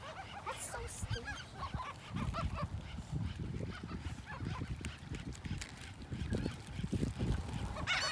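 Seagulls at Galveston squawk and cry as they are fed pieces of chicken, a busy stretch of overlapping calls at moderate distance, with faint human chatter now and then.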